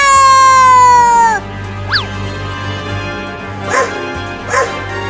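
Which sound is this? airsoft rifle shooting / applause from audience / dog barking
dog barking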